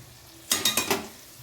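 Mung beans tumble into a pan of frying onion, grated tomato and spice masala, giving four quick rattling pours followed by a soft sizzle.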